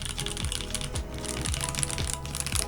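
Rapid, steady typing on a stock Melgeek Mojo68 mechanical keyboard, fresh out of the box, gives close, crisp clacks in a quick irregular rhythm with no talk.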